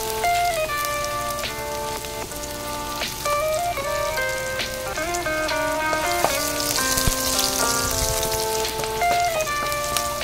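Garlic frying in hot oil in a pan for a Chinese-style fish and vegetable dish, a loud, close, steady sizzle that carries on throughout, with music playing over it.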